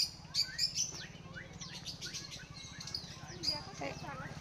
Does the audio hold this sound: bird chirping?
yes